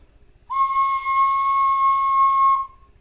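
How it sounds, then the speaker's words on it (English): A Clarke tin whistle sounds one clear, steady held note, blown firmly and sustained for about two seconds before stopping, bright and close against a quiet background. "And then just blow nice and firm in the whistle"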